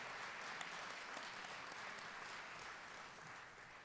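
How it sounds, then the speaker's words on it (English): Audience applauding at a memorial event for a former Hartford mayor, a steady, even wash of many hands clapping heard from a distance, fairly faint throughout. "Please join me in another round of applause for our state troubadour, Nikita Waller, for that beautiful rendition."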